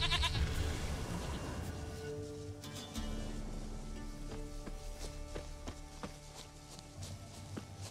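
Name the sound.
goat bleating in the video game The Witcher 3: Wild Hunt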